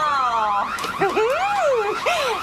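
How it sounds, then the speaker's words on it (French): A loud electronic alarm sounds during a fire drill, its warbling, rising and falling wails close and continuous throughout. "Allez, tu peux éteindre l'alarme."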